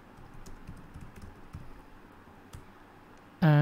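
Keys clatter on a computer keyboard as Kotlin code is typed, a close, irregular run of soft clicks over low room hum, ending in a sudden loud burst of noise.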